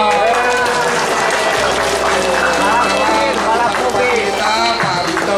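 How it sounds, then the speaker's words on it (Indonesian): Audience applause at an Indonesian government meeting, greeting a newly appointed deputy regent: dense, steady clapping from a crowd, fairly loud and sustained across the whole stretch, with some voices mixed in. "Tepuk tangan dong."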